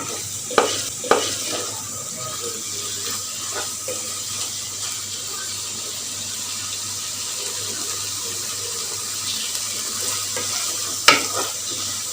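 Minced meat frying in mustard oil as it is stirred for a few minutes, a steady close sizzle with occasional sharp spoon taps against the pan, no voices.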